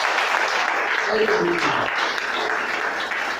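A church congregation claps together during a Portuguese-language service, steady dense applause with voices and singing mixed in and a brief spoken exclamation over it.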